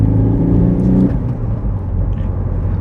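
A high-mileage Citroën C4 warm hatch with a tired clutch is driven hard, its engine giving a loud, close rumbling drone that shifts and settles partway through, alone without talk.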